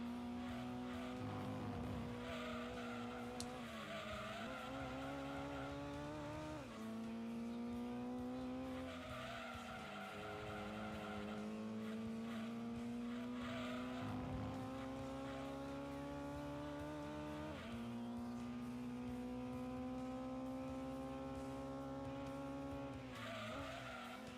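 Race cars in the video game Gran Turismo 2, a Citroen among them, roar with loud, steady engine whine that climbs and drops through gear shifts, mixed with repeated tire squeal and skidding throughout.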